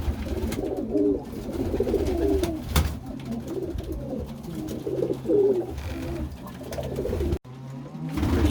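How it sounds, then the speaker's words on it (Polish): Pigeons coo repeatedly in low, throaty rolling calls, close by and continuous, with a sharp click partway through and a brief dropout near the end. "Takie czyste gołębie niektóre widzę."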